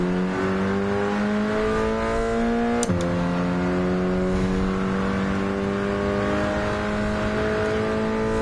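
A TVR race car at Spa in Gran Turismo 7 holds a steady loud engine drone that runs throughout. Near the middle comes a brief sharp gear-shift blip.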